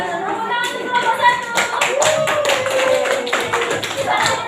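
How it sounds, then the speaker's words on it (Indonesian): Children in a classroom clapping for a group, a loud burst of rapid, uneven hand claps close by, with some voices mixed in. "Tepuk tangan untuk kelompok"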